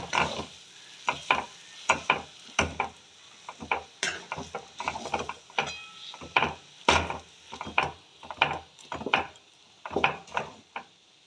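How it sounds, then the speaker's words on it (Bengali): A spice paste fries in a pan while a spatula scrapes and stirs it in quick, repeated knocks and rasps against the pan. The strokes come at an irregular rhythm over a soft background sizzle. "যে পেস্টটা করলাম একটুখানি ভেজে নেব"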